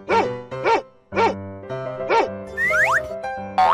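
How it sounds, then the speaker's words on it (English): Cartoon dog barks come in several short punchy bursts, mixed with boing and rising slide-whistle effects over soft background music, loud and close. "Dog."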